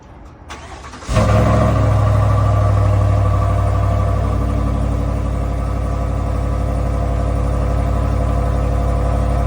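A 2024 GMC Sierra 1500 AT4X pickup with a 6.2L V8 and factory active exhaust cranks briefly, fires with a loud burst, then settles into a deep, steady idle that holds for several seconds.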